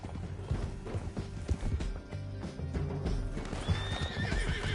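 Horses gallop with rapid clip-clop hoofbeats and a neigh rises near the end, set amid the action of the Red Dead Redemption 2 video game, loud and close over game ambience.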